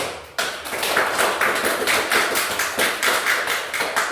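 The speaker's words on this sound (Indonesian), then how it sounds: "tepuk tangan dulu" Schoolchildren in a classroom break into brisk group clapping after a sharp onset, a steady patter of many small hands that keeps an even, slightly rhythmic pulse throughout.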